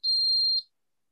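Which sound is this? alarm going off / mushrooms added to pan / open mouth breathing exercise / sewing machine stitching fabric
alarm going off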